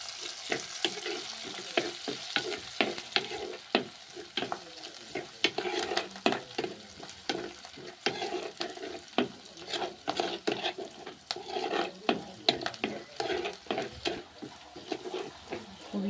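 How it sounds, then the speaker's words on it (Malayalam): Curry leaves and green chillies frying with onions in a pan for Wayanadan fish curry, a continuous sizzle broken by frequent rhythmic scraping stirs, close and fairly loud with no talking. "ഇനി അതിലേക്ക് നമുക്ക് കറിവേപ്പിലയും പച്ചമുളകും കൂടി ഇട്ട് കൊടുക്കാം."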